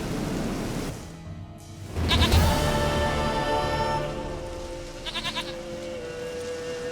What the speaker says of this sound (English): Here, goat. Here, princess.